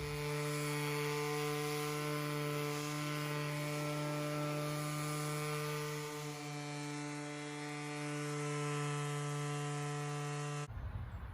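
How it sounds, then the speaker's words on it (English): A steady, droning power sander runs continuously on wood shelving, with a strong buzzing hum and rough grinding texture, cutting off abruptly near the end. "But let's get to sanding."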